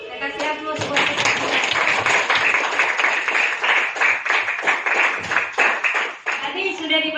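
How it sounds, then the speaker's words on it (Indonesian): A classroom of students breaks into sustained applause, many hands clapping densely and steadily at close range for several seconds before the clapping thins out near the end. "saya kasih aplaus buat kita"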